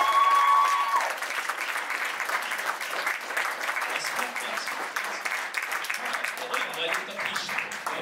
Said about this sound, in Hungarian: egy tapsot adjunk neki